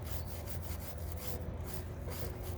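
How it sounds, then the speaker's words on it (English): A stiff brush scrubs gunk, oil, dirt and rust off a motorcycle chain as the rear tire is rotated, giving a steady close rasping rub with no speech. "try to use this brush just a little bit as I rotate the tire to remove some of the extra gunk that's on the tire, that's on the chain"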